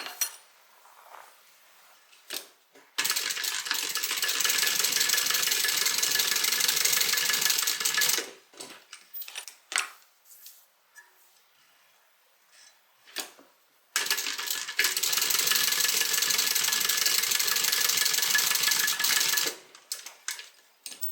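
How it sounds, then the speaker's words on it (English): A sewing machine stitches a small tote bag closed, running in two long steady bursts of several seconds each, separated by brief quiet handling sounds, loud and close. "I'm going to go ahead and just stitch that closed"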